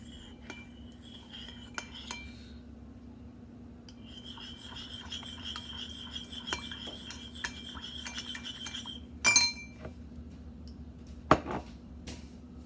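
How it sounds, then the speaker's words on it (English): A spoon stirs and scrapes ingredients in a bowl or glass to make a syrup, giving a close rasping rub with a few louder clinks near the end, quiet and without talk. "you want to take your spoon and you want to mix it until it becomes some sort of syrup"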